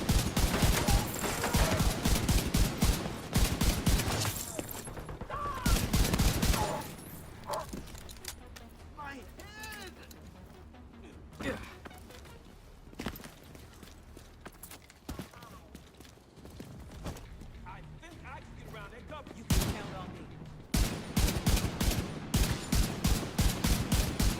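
Rapid gunfire from a video game crackles in dense bursts, loud and close, pausing and then resuming, while someone talks over parts of it.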